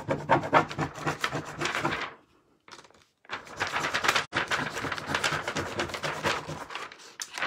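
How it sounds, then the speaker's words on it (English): Hard rubbing over a bird transfer on a wooden porch leaner: a dense, scratchy rasping of steady back-and-forth strokes, close and loud, broken by a brief pause midway before the vigorous rubbing resumes. "Just keep on rubbing hard."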